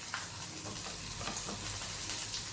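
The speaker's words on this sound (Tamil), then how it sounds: "நல்லா 2 நிமிஷம் வதக்குவோம்." Dried red chillies, tamarind and curry leaves sauté in a pan for guava chutney, giving a steady, moderately soft sizzle and crackle with light stirring throughout, no voices.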